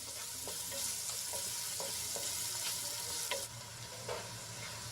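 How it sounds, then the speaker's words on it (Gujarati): Onions sautéing in a pan until pink, a continuous loud sizzle with a spoon scraping and tapping the pan several times, close up and without voices. "સાંતળીને આપણે ગુલાબી રંગની થાય ત્યાં સુધી સાંતળી લેવાની છે"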